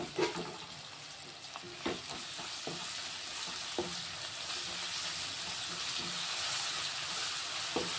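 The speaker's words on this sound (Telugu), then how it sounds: "ఒక 2 నిమిషాలు ఫ్రై చేసుకున్నాం. అల్లం వెల్లిగడ్డ అయితే ఫ్రై అయింది." Ginger garlic paste frying in a pan for a chicken fry dish, a steady close crackling sizzle with intermittent spatula scrapes and taps, no voices.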